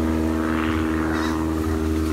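A propeller airplane passes close overhead near Bantayan airport, its steady droning engine hum loud and continuous with no voices over it.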